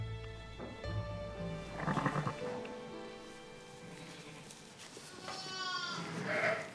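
Ewes and lambs bleating in a sheep shed during lambing season, several distinct calls of varied pitch spread across the clip, moderately near over quiet farm background, no speech.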